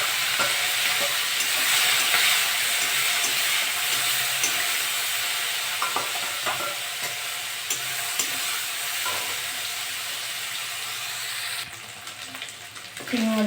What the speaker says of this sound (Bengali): তেলটা গরম হয়ে গেছে, মাছগুলো একটু ভেজে নেব।